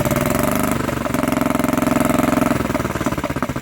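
Barford Atom 30 motor plough engine revving up close, a steady loud chugging beat that holds throughout the short stretch.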